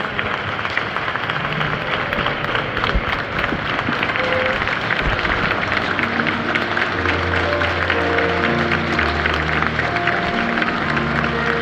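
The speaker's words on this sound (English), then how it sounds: "can you give a round of applause to Judith today for sharing her story and being kind to all of us" A live audience gives a long, steady round of applause, dense and loud, with a low murmur underneath.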